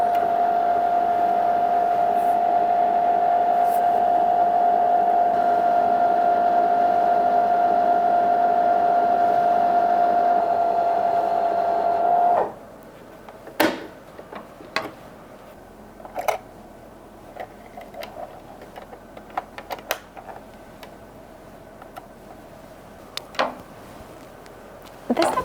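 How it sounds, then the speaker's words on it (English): A sewing machine winds a bobbin with a steady mechanical whir for about twelve seconds, then stops, leaving quiet ticks, clicks and small handling sounds. "But I'm gonna wind my bobbin now."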